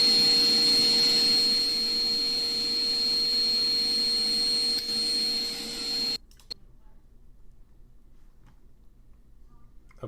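A vacuum cleaner runs with a loud, steady whine and a high-pitched tone for about six seconds before cutting off abruptly, leaving near silence with a faint click or two.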